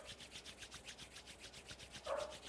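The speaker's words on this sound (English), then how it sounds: "Rub the palms together." Palms rub together in a fast, steady back-and-forth rhythm, a soft dry swishing close by and faint, with a slightly louder stroke near the end.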